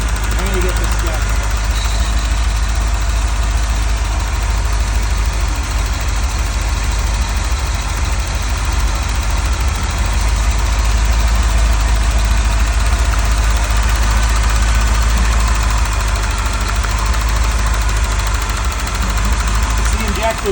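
A car engine idles steadily on its first cold start, with a suspected injector tick under a constant low rumble that runs the whole time, loud and close, while voices talk over it.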